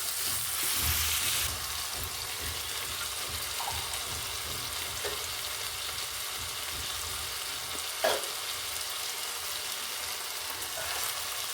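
Vegetables for ragi upma sizzle steadily in a pan, a continuous close frying hiss with a few brief stirring clinks and scrapes, no talk.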